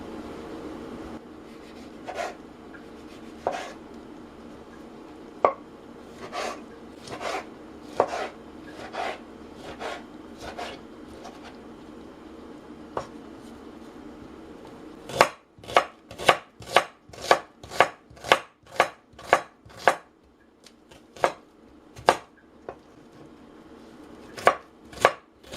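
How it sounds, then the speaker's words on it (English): A knife chops tomato and onion on a cutting board in sharp, close, evenly spaced strikes, slower and lighter at first, then a quicker, louder run of chops before a few final cuts. "And now we prepare scrambled eggs with tomato and onion. Let's cut them."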